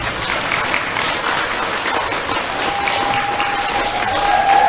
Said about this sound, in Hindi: बोलो ताली बजाओ।